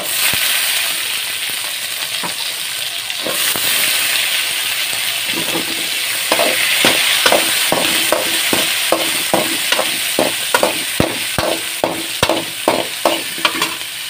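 Chopped onion frying in hot oil with popped mustard seeds and green chili, a steady bright sizzle under repeated scraping and stirring strokes that grow rhythmic toward the end, close and fairly loud with no talking.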